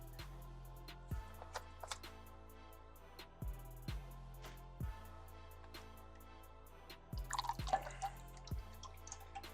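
Motor oil draining from an engine during disassembly of a Mk5 car, with single drips falling at a slow, irregular pace close by, plus a short burst of clatter near the end.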